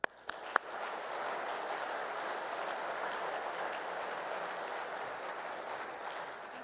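An audience at a finance event gives a quiet, distant round of applause, a steady patter of many hands that swells in after a couple of sharp knocks and keeps going at an even level.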